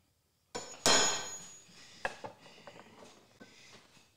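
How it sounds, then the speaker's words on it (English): A small dovetail assembly hammer taps on wood in a woodworking shop, giving a loud sharp strike followed by a few lighter, scattered knocks and taps that fade off. "That's my dovetail assembly hammer."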